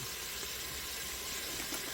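A continuous bright sizzle of stew ingredients in a pot fills the clip, steady and fairly close, with no speech.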